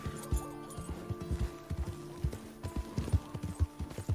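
Horse hooves in the video game Red Dead Redemption 2 clop in a steady, irregular trotting rhythm, close and fairly loud, with no talking.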